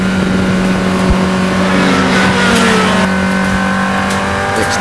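A car's engine drones hard and steady at high revs on a lap of the Anglesey racing circuit in North Wales, a loud, continuous in-car roar with tonal whine shifting slightly in pitch throughout.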